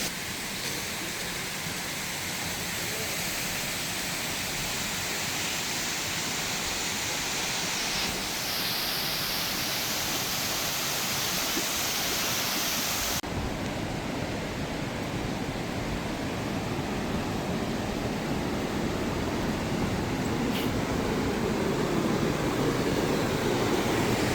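A waterfall in Tajikistan's Varzob Valley pours with a steady, broad rushing roar that fills the scene continuously from start to finish, loud and even with no voices over it.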